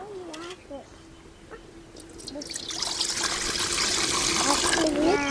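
Water pours steadily into a cooking pan on a stove, starting after a moment of quiet and building into a continuous close splashing rush, with brief talk at the start.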